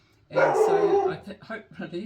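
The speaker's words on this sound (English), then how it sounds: "sorry about the dog" A dog barks and yips close by, loud and overlapping someone speaking, during a visit to a miniature garden display.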